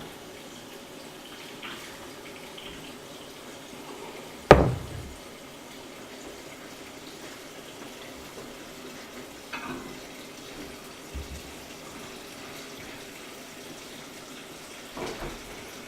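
Cold tap water runs steadily into a pot of bones, a continuous soft rushing hiss with one sharp knock partway through and a few faint clinks.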